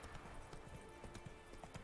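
Horse hooves clip-clopping at a steady trot in The Witcher 3 video game, a continuous moderately loud rhythm of hoofbeats with faint background ambience and no talking.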